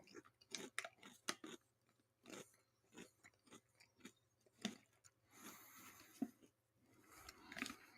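Crunchy chips are chewed close to the mic, with repeated crisp bites and crackling crunches in an uneven rhythm and no talking.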